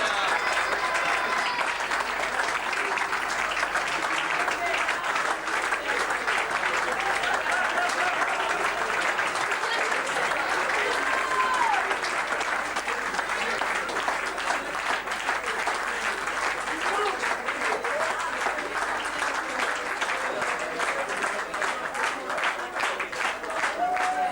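An audience at the 1996 Prix des Poids Lourds award ceremony gives sustained, dense applause for the heavyweight honorees, a steady roar of many hands clapping that continues at an even level.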